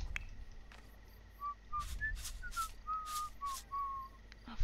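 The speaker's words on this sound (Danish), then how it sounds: "Og fløjter lidt imens." A Sims character in The Sims 4 whistles a short, wavering melody of bright tonal notes, several phrases in a row, soft and alone over quiet background.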